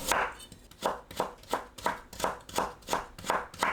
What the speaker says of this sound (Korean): 당근을 곱게 채 썰어줍니다.